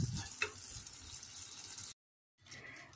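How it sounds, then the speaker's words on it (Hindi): A kalakand milk sweet mixture sizzles and fries in a pan as it is roasted, a soft steady crackle with a brief stirring scrape, cutting out for a moment before resuming quietly. "अब इसके साथ इसे अच्छे से मिक्स कर लेंगे और इसे तकरीबन 5 से 6 मिनट तक भून लेंगे"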